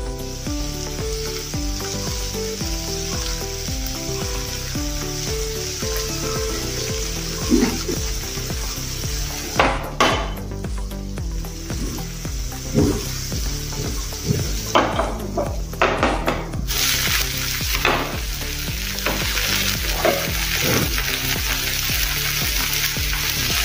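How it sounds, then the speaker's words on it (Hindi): Wheat flour dosa frying in oil on a hot pan, a steady close sizzle lasting throughout, with occasional clinks and scrapes of a utensil over faint background music. "अभी हम तेल डालेंगे।"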